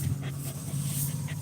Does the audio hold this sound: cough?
no